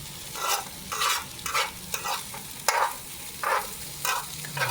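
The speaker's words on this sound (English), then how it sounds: "Cooking on my skillet, my fried skillet, what I got from TikTok" Chicken fried rice stirred on a skillet, frying with a steady sizzle as a spatula scrapes and tosses it in repeated bursts about every half second, close and loud with no talk.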